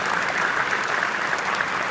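A convention crowd at the United States Hispanic Chamber of Commerce claps steadily for the Ford Motor Company, a dense, even wash of applause with no voices over it.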